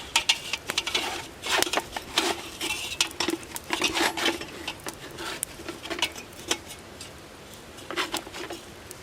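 Metal campfire cooking grate set down onto rocks at a campsite, a run of light clinks, scrapes and rattles spread over several seconds, fairly close, with no talk.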